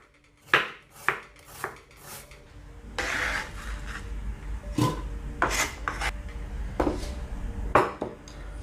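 Thinly sliced red onion is rubbed and squeezed by hand with plenty of salt for a liver dish's onion salad, making a run of close, moist crunching and rasping strokes in uneven rhythm, with no voices.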